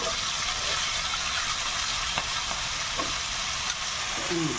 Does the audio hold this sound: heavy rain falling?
no